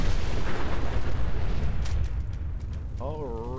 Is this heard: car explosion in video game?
yes